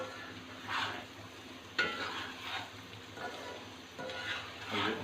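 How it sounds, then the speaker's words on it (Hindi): A spoon stirs and mixes melted stock cubes in a sizzling pan for egg fried rice, soft continuous frying under several bursts of scraping; nobody speaks. "ये सारी चीज़ें हम मिक्स कर देंगे इसमें।"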